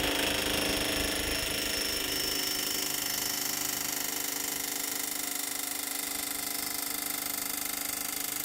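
A mechanical peening machine hammers additive-manufactured Rene 41 alloy at a rapid 36 Hz impact rate, producing a loud, continuous, jackhammer-like clatter that stays steady throughout.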